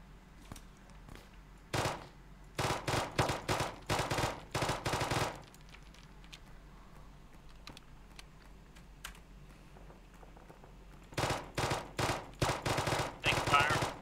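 Suppressing gunfire on a bunker system in a tactical shooter video game: several loud bursts of rapid automatic fire in separate clusters with quieter gaps between, close and sharp, no talk.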